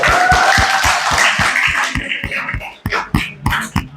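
A class of students claps hands in a fast, even rhythm of sharp claps, which then breaks into looser, uneven clapping toward the end.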